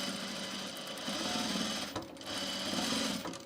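A Bernina sewing machine stitches a dress in a rapid, even mechanical whir close by. The sound pauses briefly in the middle, then resumes.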